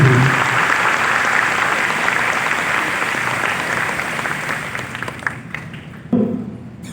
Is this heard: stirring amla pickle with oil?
no